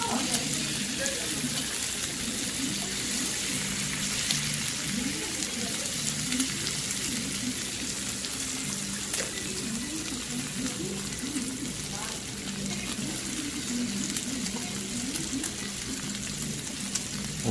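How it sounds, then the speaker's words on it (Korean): Kimchi bubbles and sizzles alongside pork belly in a pan, a steady dense crackle and hiss that runs unbroken and close throughout, with people talking softly underneath. "보글보글한 거 봐라."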